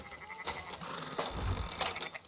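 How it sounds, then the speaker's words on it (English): Sheep bleat nearby in a farm setting, several short wavering calls spread across a couple of seconds over light background noise. "Fine sheep."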